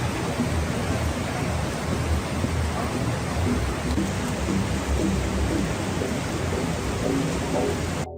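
Heavy, steady rain pours down during flash flooding in Padang, West Sumatra, as the Batang Kuranci River overflows, a dense continuous roar with low rumbling, loud and unbroken throughout with no voices.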